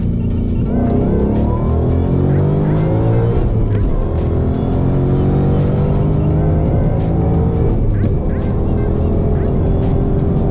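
A Whipple-supercharged Mustang GT engine roars at full throttle close by during a drag racing launch, its pitch sweeping upward through hard pulls, loud and unbroken throughout.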